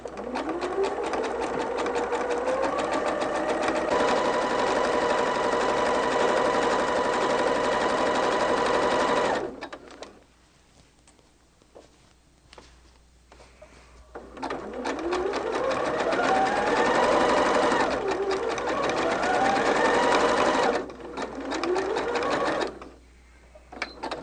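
A sewing machine runs a multi-stitch zigzag to join quilt batting, whirring steadily in two long bursts with a quiet pause between them and no talking.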